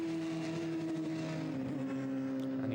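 Radical Clubman's Cup race cars circulating the Snetterton circuit in 2009 on a dry, sunny weekend, a steady loud engine drone holding one pitch with no voices over it.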